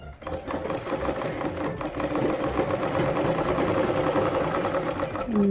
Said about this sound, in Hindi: इसको चारों तरफ से सिलाई कर लेंगे